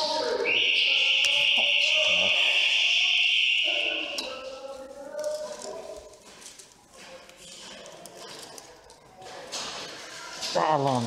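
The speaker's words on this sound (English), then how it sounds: "That alarm scares the crap out of me now." An alarm at a mall during an airsoft game sounds loud and steady for about four seconds, then cuts off, followed by footsteps, movement and quiet talk.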